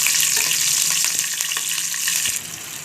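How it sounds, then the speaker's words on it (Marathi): Cumin, mustard seeds, green chilli and curry leaves sizzle loudly in hot oil for a tempering, a steady bright crackle with scattered pops and no voices. "जिरी मोहरी टाकूया, मिरची कढीपत्ता टाकूया"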